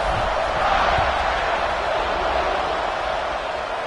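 A football stadium crowd roars in a loud, continuous wash of cheering and noise just before kickoff, steady throughout with no clear voices standing out.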